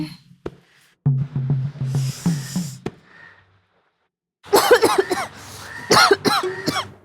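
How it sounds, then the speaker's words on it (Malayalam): A person in a comedy sitcom scene gives a burst of several harsh, close coughs after a stretch of low, murmuring throat sounds and a short silence. "ഒരു ചുമ."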